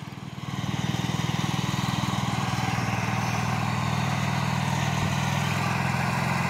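A 1968 Allis Chalmers B-110 garden tractor clearing snow runs as a steady, throbbing engine drone that rises slightly at the start and then holds close and even, with no talking.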